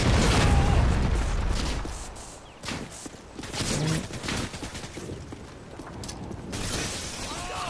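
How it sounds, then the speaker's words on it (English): Predator missile strike in Modern Warfare 2 during a Capture the Flag match, heard as a loud rumbling blast followed by scattered gunfire, crackling impacts and debris. "Friendly predator missile inbound"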